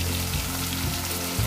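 Finely chopped onion and tomato fry in a pan with dabeli masala, a dense, continuous sizzle up close with light scraping underneath.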